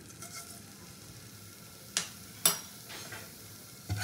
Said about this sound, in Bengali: তেলের মধ্যে প্রথমে আমি একটু কালো জিরে ফোড়ন দিচ্ছি।